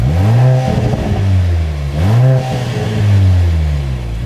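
A Mercedes GLC 43 fitted with an upgraded exhaust revs loud and close, making three rising and falling engine sweeps with a rough, throaty tone between them.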